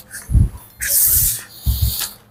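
Scissors snip through blouse fabric in short bursts of rough, crisp cutting, three passes separated by brief pauses, close and fairly loud with no talking.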